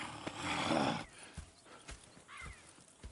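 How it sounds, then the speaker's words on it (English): Horses in Red Dead Redemption 2: a loud burst of snorting and neighing at the start, then scattered hoof clops and shuffles at close range, no talk. "Go check the horses are ready."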